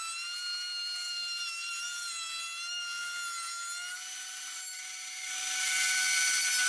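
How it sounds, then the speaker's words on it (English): A power router fitted with a 1/4 inch round-over bit rounds over and smooths the top wooden piece of a scroll saw stand, a steady high-pitched whine that holds throughout and grows louder and harsher near the end as the bit bites into the wood. "I went over the top piece with a 1/4 inch round over bit in the router just to smooth everything off"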